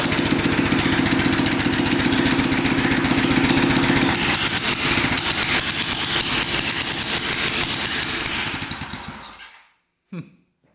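A 1960s Fat Cat mini bike's small engine runs loud and close with a rapid buzzing putter, rising in pitch partway through, then cuts out abruptly, followed by a brief faint sound after silence.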